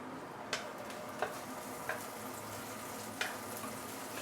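Shallots sautéing in oil until browning, a faint, steady low sizzle with a few sharp isolated pops scattered through it, heard alone.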